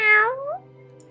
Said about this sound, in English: you actually hear a little meow